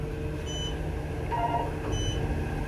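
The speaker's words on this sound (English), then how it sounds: "Why is that phone keep going off?" Inside an Otis Gen2 machine-room-less elevator at Oceans One Resort in Myrtle Beach, a phone gives short electronic beeps at intervals, faint over a steady low cabin hum, with no talking.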